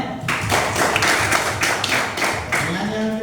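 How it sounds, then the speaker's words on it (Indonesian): A class of students clapping their hands together in an Indonesian classroom, a brisk run of sharp, close claps lasting a few seconds. "Bagus. Tepuk tangan."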